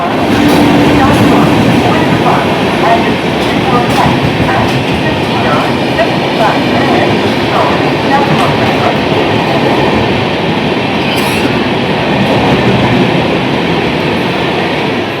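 Inside a moving passenger train between Durgapur and Gangtok, a loud, steady rumble runs throughout, with rhythmic clicks from the wheels and people talking under the noise.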